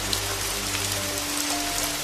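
Steady rain falls on a village with a dense, even hiss of drops throughout, a constant wash of sound with no talking.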